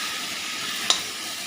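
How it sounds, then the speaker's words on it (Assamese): Chunks of red pumpkin and potato fry in a pan with a steady, even sizzle and one brief click partway through, heard close with no speech. "এতিয়া মই এইখিনি অলপ দেৰি ভাজি লওঁ।"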